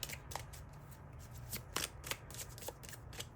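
Tarot cards shuffled and pulled during a reading, with a steady riffling rustle and several sharp card snaps, close and quiet over a low background hum.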